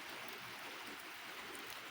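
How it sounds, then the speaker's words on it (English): Steady rain falls outdoors beside a garden where a tiger lily has been transplanted and mulched. It makes a dense, even hiss that holds without a break and no one speaks. "It's raining outside right now."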